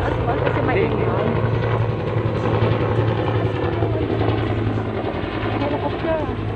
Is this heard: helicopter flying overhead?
yes